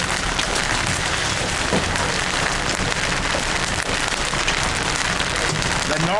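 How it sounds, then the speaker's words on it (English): Hail pelting pavement and a car during a Texas storm chase, a dense continuous clatter of impacts at constant loudness, sounding much like heavy rain drumming on hard surfaces. "That's hail hitting the pavement and the car."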